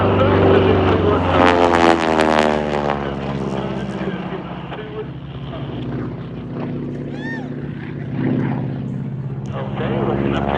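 A T-6 aircraft's propeller engine roars loud and close through back-to-back loops, its pitch sweeping and droning as the load shifts, with a voice talking over it during most of the run.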